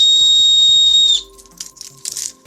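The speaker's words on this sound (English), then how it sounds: "I also have a whistle." A small survival whistle on a paracord keychain gives one loud, piercing, steady blast lasting about a second, then cuts off, followed by quiet handling clicks.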